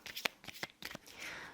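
Tarot cards are shuffled in a few quick riffling bursts and then one is drawn with a soft slide, close and fairly quiet.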